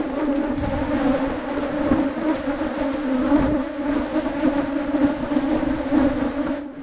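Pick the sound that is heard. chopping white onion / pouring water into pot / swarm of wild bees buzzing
swarm of wild bees buzzing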